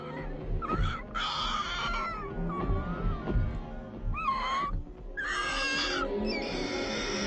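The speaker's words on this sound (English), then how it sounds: "It's just a bird." Bird calling in an animated adventure scene, a series of warbling, squawking cries at varying pitch, loud and close against a busy background.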